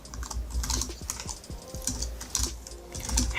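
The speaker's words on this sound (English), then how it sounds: "we're gonna start typing" Quick, irregular keystrokes clatter on a computer keyboard close to the mic, a brisk run of clicky taps with short pauses between bursts.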